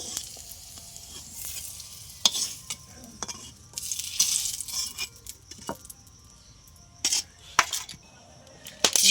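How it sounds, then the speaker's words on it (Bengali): Two chillies hit hot oil in a pan and fry, giving bursts of sharp sizzling and spattering crackles over a quiet background, with occasional clinks of a utensil. "দুটো লঙ্কা ছেড়ে দিয়ে দিলাম"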